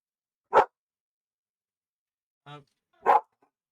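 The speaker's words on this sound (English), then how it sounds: "Now you get to hear her bark." Two sharp dog barks, close and loud, separated by a pause, with a short whine-like vocal sound just before the second bark.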